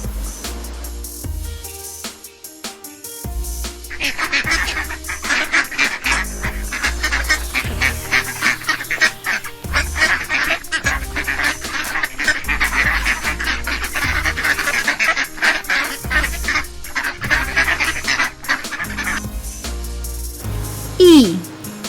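A duck quacks repeatedly in loud, rhythmic honking calls over about twenty seconds, close and continuous, with a short squeaky call at the end.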